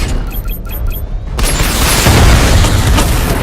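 Batmobile barrage weapon in Batman Arkham Knight fires, a loud booming burst of explosions that rumbles on after a brief electronic beeping, with heavy sustained blasts filling the space.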